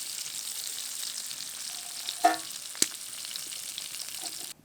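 Potatoes frying in oil in a home kitchen, a steady soft sizzle throughout with a couple of brief utensil clinks, no voices, quiet and close.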